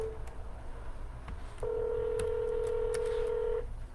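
Telephone dialing tone for a real estate cold call, a steady electronic tone holding for about two seconds after faint clicks, quiet over a low background hum.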